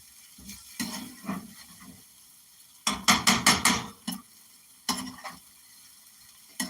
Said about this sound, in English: I gotta stir the rice